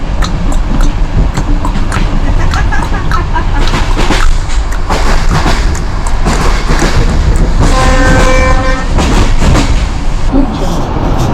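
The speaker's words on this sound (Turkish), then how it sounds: "Evet benim tren gelmiş." A passenger train pulls into a station in Bulgaria during a long cross-border rail journey, rumbling and clattering steadily, with a loud multi-tone horn blast near the end and people talking over it.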